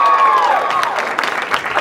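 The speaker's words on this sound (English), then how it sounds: "Yes, please applause for me" Theater audience applauding a last-minute stand-in chairman at a staging of the musical The Mystery of Edwin Drood, a dense crowd of clapping and cheering that fills the whole moment, with a voice tone fading early on.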